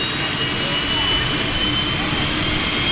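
A jet engine fitted to a mini-van runs at a Cars and Coffee show, giving a loud, steady roar with a high, constant whine that holds unbroken throughout.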